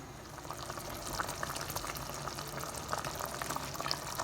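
Jackfruit payasam (chakka pradhaman) bubbles at a rolling boil in a pot, a soft, continuous popping and gurgling heard close and alone.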